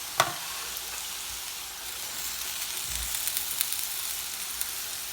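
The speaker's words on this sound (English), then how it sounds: "I am adding my onions" Potatoes with freshly added onions sizzle and fry steadily in a pan, a continuous close hiss with a sharp clatter near the start and small crackles throughout.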